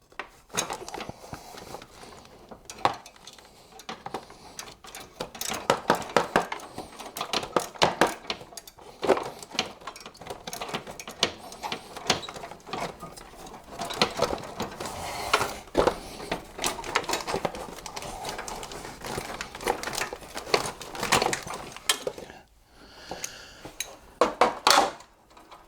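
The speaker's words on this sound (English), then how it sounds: "Get your socket on the last bolt." A socket wrench works the last engine bolt during removal of an LS4 V8 from a Pontiac Grand Prix, giving close, irregular bursts of ratcheting clicks and metallic clatter with brief pauses between.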